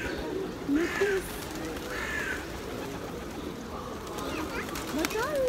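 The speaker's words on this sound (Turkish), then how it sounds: "Çok güzel kuşlar, harika." Birds call outdoors with several short chirps and caw-like notes, and cooing pigeons or doves may be among them. The calls come at moderate distance over steady ambient noise, and people talk nearby.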